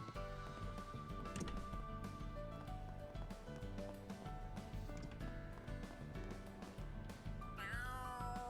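A cat meows once near the end of a scene in the video game Trails Through Daybreak II, a short rising call set against steady, fairly loud background music.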